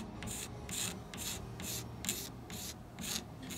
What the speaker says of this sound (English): So I'm going to take this razor blade